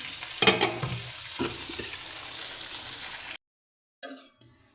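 Fish with potatoes and spices cooking in a pan, a close steady sizzle with stirring scrapes and knocks early on, then a sudden cut to silence before a brief burst of sizzling returns.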